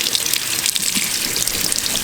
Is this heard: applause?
no